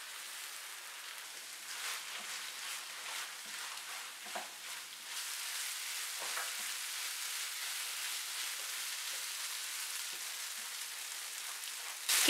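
Minced meat mixed with ground tomatoes sizzles steadily in a pan over a medium flame, a soft, continuous crackle with occasional louder stirring scrapes and no voices.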